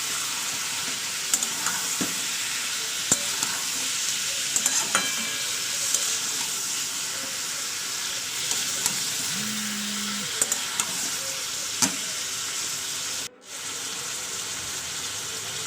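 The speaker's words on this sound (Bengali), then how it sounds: "ভালো করে একটু পাঁচ সাত মিনিট আমি চিকেনটা একটু ওদের কষিয়ে নেবো যাতে চিকেনের রসটা সেটা মরে যায়" Chicken kosha is stir-fried in a pan, a steady close sizzle broken by occasional soft spatula clicks and scrapes.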